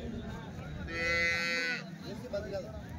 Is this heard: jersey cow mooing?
yes